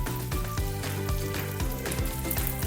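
Apple quarters, a not-too-sweet variety such as Granny Smith, frying in a pan for a chicken dish with cider and honey, giving a steady close sizzle throughout with faint clinks and stirring.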